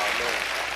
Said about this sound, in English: We're going to clap it up again for you again.